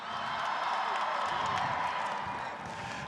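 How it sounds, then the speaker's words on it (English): Crowd applause and cheering for the team captains at the 2015 Alabama football championship parade, a steady, dense wash of clapping and distant whoops filling the whole stretch outdoors. "How about a nice round of applause again for all of our captains"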